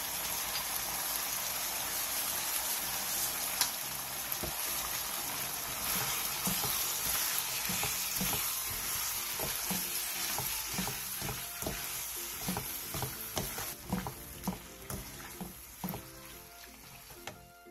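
Korean spicy stir-fried pork sizzles in a pan with green onion, chili and sesame, tossed lightly, with a constant fry and a run of soft, rhythmic scrapes and clacks toward the end.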